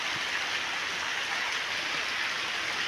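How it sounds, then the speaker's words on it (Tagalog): Steady rain falls in a constant hiss, a dense even wash of drops with no talking. "Pero ayan na, ulan po ulit."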